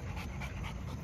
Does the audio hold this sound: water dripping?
no